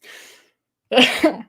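A single human sneeze, close and loud, with a short sharp burst preceded by a soft inhale about a second earlier.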